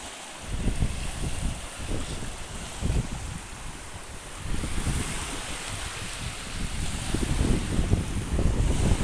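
Strong wind and choppy waves with whitecaps on the Nam Theun river reservoir, gusts buffeting the microphone in heavy low rumbles over a constant rushing hiss, swelling and easing in surges without any talk.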